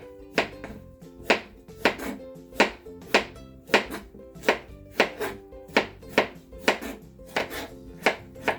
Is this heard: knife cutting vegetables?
yes